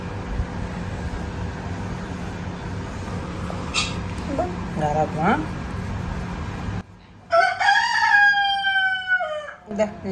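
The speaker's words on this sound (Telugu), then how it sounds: "కోడి పిలుస్తుందిరా బయటకు అంటారా వచ్చేసి" A rooster crows from a village yard in the rainy season, one long drawn-out call rising and falling near the end, after a stretch of steady background noise and distant chatter; people talk around it.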